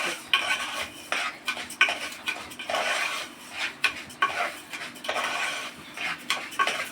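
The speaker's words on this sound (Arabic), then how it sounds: "انما نقلب الرز كده" Rice stirred in a metal cooking pot with a spoon, giving repeated close scraping and clinking strokes in an uneven rhythm, fairly quiet, with no talking.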